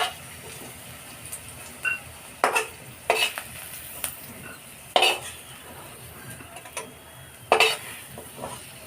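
Cashews and raisins fry in a pan while a spoon stirs them, with several sharp metallic scrapes and clinks standing out over a faint, steady background sizzle.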